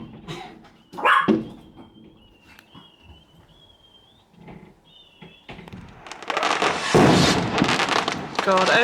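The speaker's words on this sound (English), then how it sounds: "God, every dog in the area is going ape shit." Dogs barking across the neighbourhood while many Halloween-week fireworks go off nearby, with sharp yelps and barks, a distant whistling rocket, then a loud crackling burst of fireworks. A person talks over part of it.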